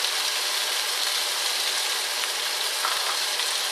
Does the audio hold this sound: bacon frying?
yes